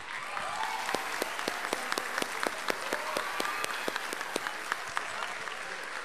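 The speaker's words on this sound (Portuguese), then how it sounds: "Eu pediria então a todos os meus amigos aqui, convidados, presentes, que nós aplaudíssemos esses homens." Audience applauding at a Festa do Branco celebration, sustained crisp clapping from a crowd with sharp individual claps standing out, steady and even throughout.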